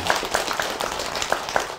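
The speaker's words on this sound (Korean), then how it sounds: "큰 박수 한번" Audience applause at a Korean temple gathering honoring volunteers, steady dense clapping with a few sharper individual claps standing out, fairly loud and close, no talk over it.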